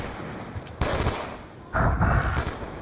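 Gunfire from Black Ops 2 arrives as two short bursts of rapid shots firing through a wall, fairly distant and moderately loud against a steady game background.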